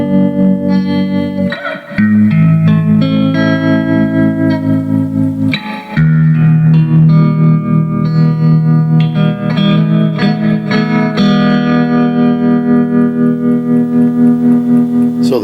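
A 1974 Fender Princeton Reverb guitar amp rings out with sustained, layered guitar chords soaked in reverb and pulsing tremolo, loud and continuous, with two brief dips where the playing pauses.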